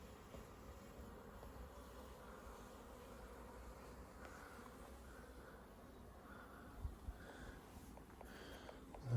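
Bees or flies buzz steadily around an old stone wall at an ancient church, a faint continuous drone over soft outdoor background with a few brief knocks near the end.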